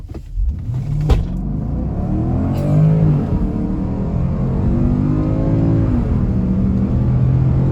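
A 2.6-tonne Porsche Cayenne GTS SUV's engine revs up hard and close, its pitch climbing as it accelerates, with a loud steady roar throughout.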